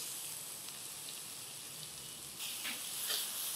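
Grated carrot drops into hot oil seasoned with turmeric, giving a faint, steady frying hiss that swells slightly near the end.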